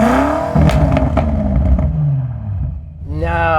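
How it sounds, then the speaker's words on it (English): A 2018 BMW M5's exhaust gives a subdued, low engine tone that rises and falls, under people talking nearby. "I guess we can start by comparing one thing, and that's exhaust tone."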